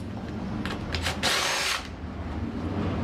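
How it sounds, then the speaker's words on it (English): A power driver spins out 8mm bolts on a 2006 Honda Big Ruckus 250cc scooter, giving a few short whirring bursts and then one longer, louder run, close up with no talk. "it's 8mm bolts. So I'm going to take those out"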